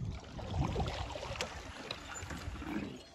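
A canoe is paddled across a lake, with soft water swishes and splashes from the strokes under steady outdoor wind noise at close range and no voices.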